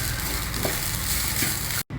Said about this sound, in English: When the spices are well roasted, I am adding half a cup of fresh grated coconut. Just roast this also for half a minute